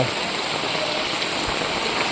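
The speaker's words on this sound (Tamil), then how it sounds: "ஆனால் இவ்வளோ தண்ணி வருது பார்த்தீங்களா" Floodwater rushes through a full roadside drain after heavy rain in Tirunelveli district, a loud, steady broadband roar of churning water with no pauses.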